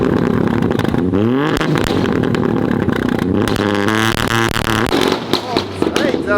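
A three-cylinder car fires off anti-lag launch control. Loud, rapid pops and crackles burst over a revving engine, with excited voices talking over it.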